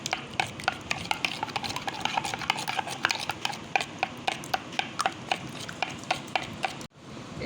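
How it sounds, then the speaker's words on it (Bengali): A fork beats an egg with a pinch of salt in a bowl, a steady fast run of close clicking taps against the sides that stops abruptly near the end. "এখন আমি ডিমটি ভালোভাবে ফেটিয়ে নিব এরকম করে।"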